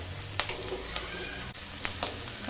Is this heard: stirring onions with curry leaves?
yes